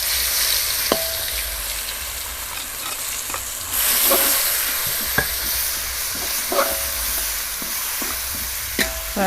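Spice paste fries in hot oil in a wok over a wood fire, crackling loudly and steadily while a spatula clacks and scrapes against the metal at irregular intervals.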